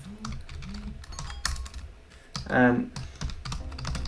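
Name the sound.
typing HTML code on a computer keyboard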